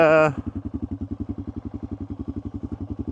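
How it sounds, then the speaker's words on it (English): A big single-cylinder thumper motorcycle idles with a steady, close, pulsing beat, heard just after a brief voice at the start. "let's jump back on the bike and let's take you for a little ride"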